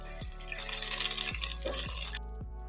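Ginger and garlic paste fries in a pan over a medium gas flame for a fish curry, making a faint, steady sizzle that cuts off near the end.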